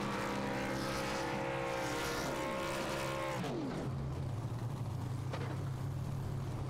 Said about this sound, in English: Dual burnouts against the wall there.